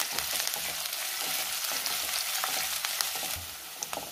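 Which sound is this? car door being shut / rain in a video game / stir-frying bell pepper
stir-frying bell pepper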